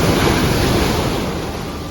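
Surf rolls onto Eagle Beach in Aruba, a steady loud rush of breaking ocean waves mixed with wind noise on the microphone.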